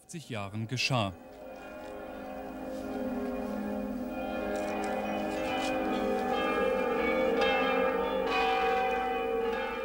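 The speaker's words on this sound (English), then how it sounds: "the ringing of the bells" Church bells of the Frauenkirche in Dresden ring out in a dense, sustained peal in the square, swelling and overlapping continuously after a brief voice at the start.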